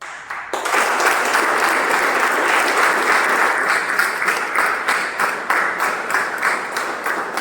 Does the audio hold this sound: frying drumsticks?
no